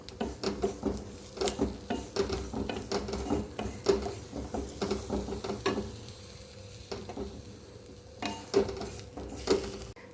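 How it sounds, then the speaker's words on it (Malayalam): Grated coconut mixture frying in a pan for a snake gourd thoran, with a low sizzle under repeated scraping, stirring strokes of a spoon against the pan, close and fairly quiet. "ഇതെല്ലാം കൂടെ മിക്സ് ചെയ്ത് വറുത്തെടുക്കുക"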